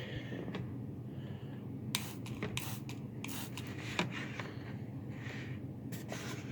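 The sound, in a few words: spraying vinegar from a spray bottle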